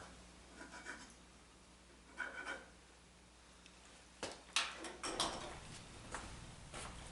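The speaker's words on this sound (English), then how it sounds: "I can scribe a line here to get my length" A scribing tool drawn across wood to mark a length for a miter cut on a boot cleaning station, giving a few short, soft scratching strokes close by in a quiet workshop.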